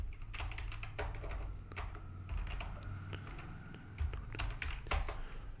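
Fingers tap out a domain name on a computer keyboard, a steady run of close, crisp keystrokes over a low background hum, with no talking.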